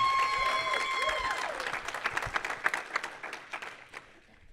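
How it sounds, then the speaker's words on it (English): Applause from an audience at a talk on anxiety and depression, starting over a sustained musical tone, then thinning into scattered individual claps that fade toward the end. "Give a round of applause"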